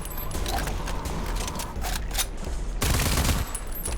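Assault rifle firing bursts in a video game, a dense crackle of rapid shots over a steady game soundscape, loud and continuous, with a heavier burst near the end.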